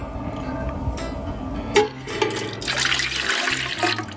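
Warm milk, poured after warm water, trickles and splashes into the pan of a bread maker, a soft liquid stream with small clinks, quiet and close in a kitchen.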